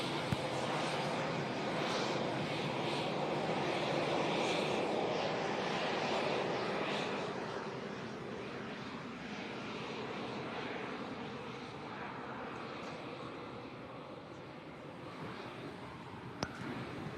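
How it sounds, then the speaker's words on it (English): A Eurofighter Typhoon jet taxis at the Farnborough airshow on a clear, dry summer day. Its engines give a broad, continuous roar that holds strong, then eases slightly toward the end, with no voices heard. "As we see the typhoon taxiing"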